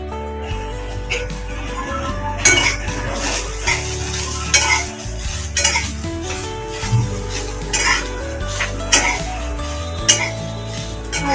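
Onions frying in a hot pan while being stirred, with scraping and occasional utensil clinks against the pan over a steady sizzle, background music running throughout.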